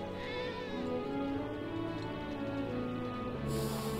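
A cat meows repeatedly in the Final Fantasy VII Remake video game, drawn-out tonal cries over a steady game background hum, with no speech.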